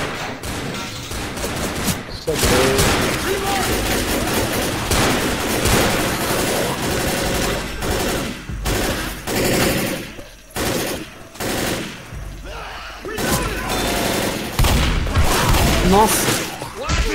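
Rapid, loud bursts of gunfire blast zombies in Left 4 Dead, a near-continuous fusillade with booms and crashes over about seventeen seconds, with brief lulls and then renewed shooting.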